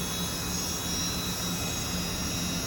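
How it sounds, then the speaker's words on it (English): A Technica 5100-810 center hole grinding machine spindle runs at steady speed, a constant high whine and hum with a droning low tone, close and unbroken. "We'll fire up the spindle."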